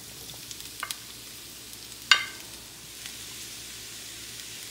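Garlic, peppers and onions cook with carrots in a hot pan for a seafood cookup, giving a soft, steady sizzle broken by a few sharp clinks of a utensil stirring.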